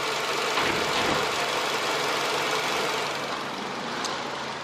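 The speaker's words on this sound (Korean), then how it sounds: "엔진 소음을 먼저 들려드리면은" A used car with only about 20,000 km on it, still under new-car warranty, idles with a steady, even engine hum heard close up, unchanging throughout and free of talk.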